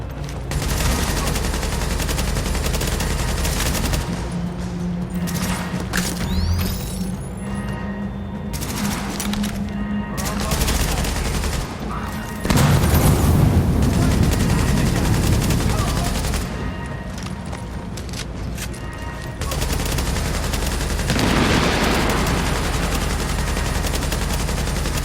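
Gunfire in The Division video game during a hard-mode fight at the WarrenGate Power Plant: loud, continuous rapid bursts of automatic fire that keep going with only brief lulls, heavy and near.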